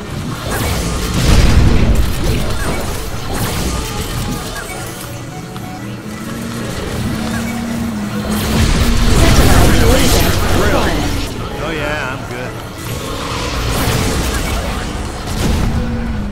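Satellite laser explosions in the Cars 2 video game, heavy booms and crashes that swell repeatedly over game music and engine noise, with a voice talking throughout.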